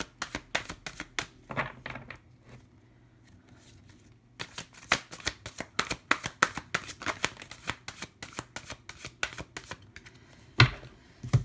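Tarot cards are shuffled by hand close up in rapid riffling bursts of crisp slaps and flicks, pausing briefly early on and then going on with a sharp thump near the end, no talk.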